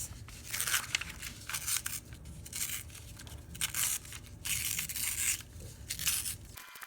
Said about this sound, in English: The first thing we're going to do for our cave art picture is very carefully tear along all the edges